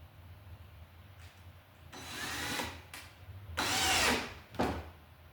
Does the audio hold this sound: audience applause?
no